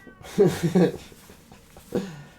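A house cat meows indoors during a home yoga session: a pair of close, moderately loud meows, then after a pause a single shorter meow trailing off.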